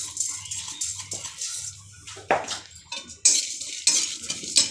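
Whole spices with cumin, cinnamon, cloves, cardamom and black pepper dry-roasting in a pan, stirred with a utensil that scrapes and clinks against the metal in irregular bursts, close and fairly quiet, with no talk.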